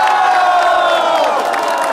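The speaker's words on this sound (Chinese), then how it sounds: "我们大家帮他们掌声鼓励" A crowd at a chocolate estate in Pingtung, Taiwan, lets out a brief, loud burst of cheering and raised voices that fills the space.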